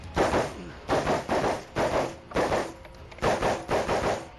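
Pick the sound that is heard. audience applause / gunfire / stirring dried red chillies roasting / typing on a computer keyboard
gunfire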